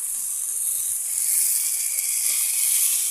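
Food sizzles in an uncovered pan with a steady, soft hiss and a few faint low knocks of stirring; no voices.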